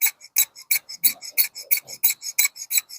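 A dental hand instrument is sharpened in quick, even strokes, each a crisp rasping scrape, about a dozen in a steady rhythm, close and clear with no talk.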